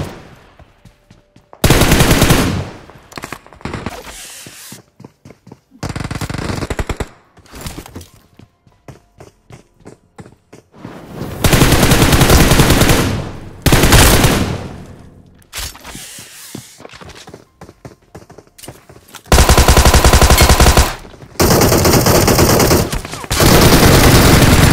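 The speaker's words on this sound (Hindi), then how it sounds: "तो भैया पीछे से यार कोई और भी गोली चला रहा था भाई," Loud automatic gunfire bursts in the mobile battle royale game BGMI, played on an iPad, with rapid rattling volleys separated by short pauses and quieter stretches, some shots close and heavy, others more distant.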